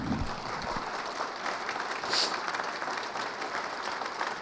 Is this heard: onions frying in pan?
no